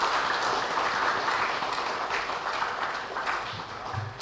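Audience applause at a JKO Udaan competition event: dense, steady clapping from a crowd that fills the whole stretch at an even loudness, with no voices standing out.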